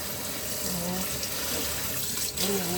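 Vegetables are washed under running water at a sink, a steady close splashing flow with a voice talking faintly over it.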